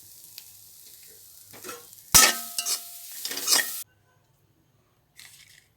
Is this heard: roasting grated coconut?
yes